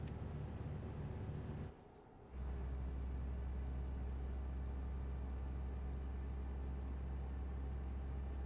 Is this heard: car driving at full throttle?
yes